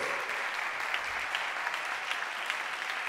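Steady, dense applause from a crowd at a locking dance battle, loud and continuous throughout with no voices standing out.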